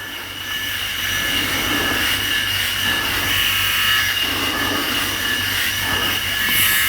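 A Philips Head Shaver Pro 9000 electric shaver works across a head, making a continuous buzzing whir with shifting rasping texture as it passes over stubble, close and steady throughout.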